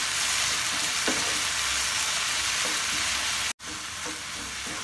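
Tomatoes being sautéed in a pan for tomato chutney, giving off a steady, dense sizzle with soft occasional stirring bumps, close and continuous, with one brief cut near the end.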